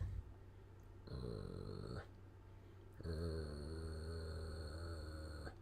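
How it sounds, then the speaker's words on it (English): Several dogs growl and whimper close by in two bursts, each lasting about a second or more, with low rumbling growls and higher whining tones over a steady background hum. "My dogs are still looking at his vehicle. My dogs are like..."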